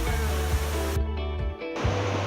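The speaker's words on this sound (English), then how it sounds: "the audio here has a lot of water in the background" Rushing water fills the background as a continuous broadband roar, loud and steady, cut briefly by a moment of near silence before resuming.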